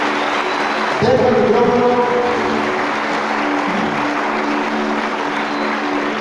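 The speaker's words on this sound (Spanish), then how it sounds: "Aplausos para los maestros. Fuerte que se escuche." A crowd applauds teachers at a telesecundaria school gathering in Tabasco: a broad, continuous wash of clapping that carries through the whole stretch while someone speaks over it on a microphone.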